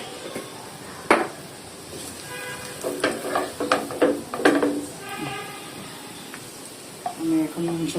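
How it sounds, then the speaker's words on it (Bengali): Goat meat curry gets a tempering in a hot pan: sharp sizzling bursts and clinks of stirring come and go in short irregular spurts over a quieter kitchen background. "আমি এখন মাংসটা বাগার দিয়ে নিচ্ছি।"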